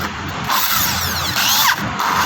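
An electric power drill whirs in short bursts, spinning in reverse and forward, its pitch rising and falling as it spins up and slows, close and fairly loud.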